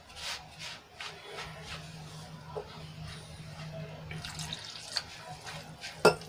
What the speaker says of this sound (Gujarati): અને બીજું જોઈતા પ્રમાણમાં આપણે પાણી એડ કરીશું